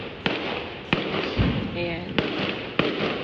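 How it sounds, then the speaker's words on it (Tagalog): Loud fireworks and firecrackers bang on the last day of Chinese New Year, with several sharp cracks spread irregularly over a few seconds against a busy, noisy background, while a person talks nearby. "Grabe yung paputok nila ng katapusan."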